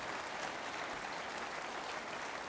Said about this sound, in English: Round of applause, please, for Mr. Sunak taking my questions.